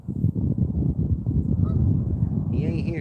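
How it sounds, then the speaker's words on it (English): A goose honks near a fishing spot, a few loud, close calls rising over someone speaking, with a burst of sharper honking near the end. "He ain't here, Goose. Get out of here."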